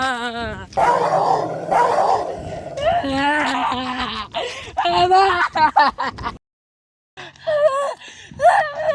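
A dog in a Gujarati comedy sketch growls and barks in loud, close bursts, mixed with human voices and snickering laughter, then breaks off into a brief silence before more barks.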